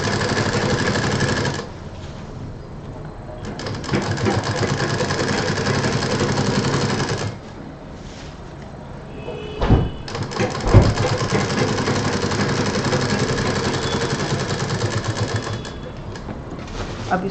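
An electric sewing machine stitches the border of a large fabric bag in steady, fast runs of mechanical whirring and needle clatter, stopping and restarting several times with brief handling noises in the pauses.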